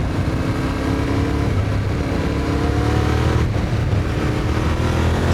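A Yamaha Tenere World Raid adventure motorcycle engine runs steadily under throttle, producing a loud continuous mid-pitched drone with a slight change in tone partway through, and no voices.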